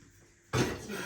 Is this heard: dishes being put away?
yes